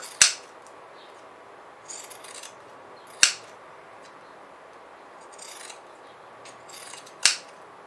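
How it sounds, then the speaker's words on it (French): Pinking shears trimming excess fabric while sewing a baby bath cape: sharp, crisp snips spaced a few seconds apart with soft rustling of cloth between cuts, close and otherwise quiet. "je vais prendre mes ciseaux cranteurs. Je vais casser mes angles sans découper bien évidemment mes coutures"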